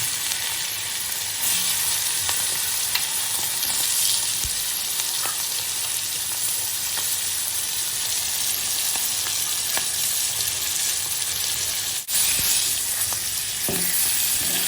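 Shrimp frying in hot oil with turmeric, a loud, continuous close-up sizzle and crackle that holds steady throughout, with a few faint clinks of a utensil and no talking.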